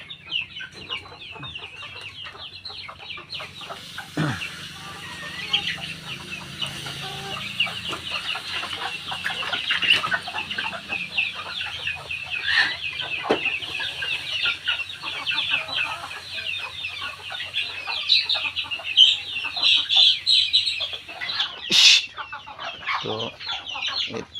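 Domestic chickens kept in a household coop cluck steadily and close by, with overlapping hen calls and scattered sharper squawks running throughout, no talk.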